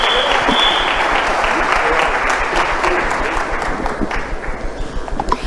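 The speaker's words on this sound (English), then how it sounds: "Please give our panelists a round of applause" Audience applause for the panelists at the National Dialogue Convention in South Africa, a loud, dense clapping that holds steady before thinning and growing more uneven at the end.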